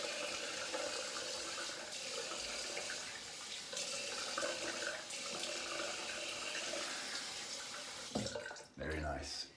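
Tap water runs and splashes as hands and face are rinsed after shaving at a sink, a steady close rush with some louder splashes near the end, and someone speaks softly over it.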